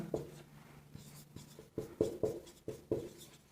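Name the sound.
writing with a marker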